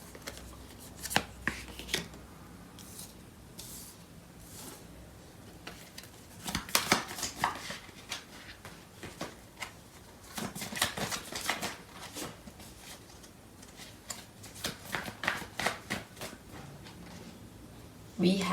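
Tarot cards shuffled by hand at close range, with soft repeated riffling and slapping bursts in irregular clusters.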